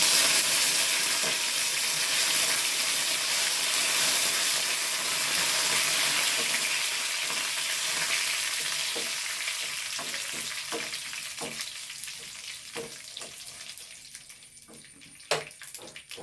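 Hot tempering is poured over cucumber and beetroot kichadi for an Onam feast, starting with a loud, hissing sizzle that slowly dies down into scattered pops and crackles.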